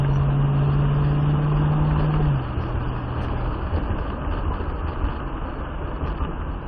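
An old Ford Mustang engine drones loudly and steadily with a strong, sustained tone under throttle through chicanes, then the pitch drops and the engine note eases off as it heads into the next turn.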